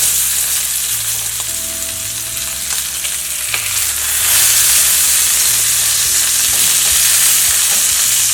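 Chicken buns frying in a pan give off a steady, loud sizzle with a crackling hiss that swells midway and stays strong, with a low hum underneath throughout.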